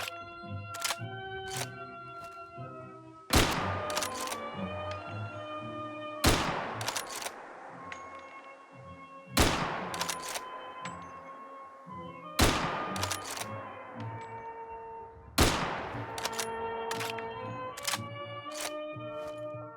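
Five single bolt-action rifle shots from Fallout New Vegas crack out at steady intervals of about three seconds, each loud and sharp with a ringing decay, over a sustained musical tone.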